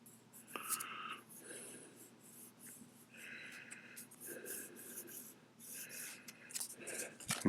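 A pen or marker scratches short strokes onto an AR-15 gas block, a run of close, quiet scraping bursts with brief pauses between them.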